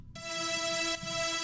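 Layered melodic dubstep synth leads built from four processed layers with reverb, a bright sustained buzzy chord that swells in, briefly dips near the end and returns, fairly quiet and heard alone.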